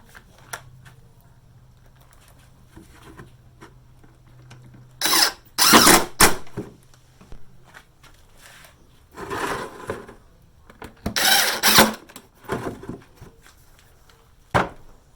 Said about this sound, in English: So I'm put some screws in this.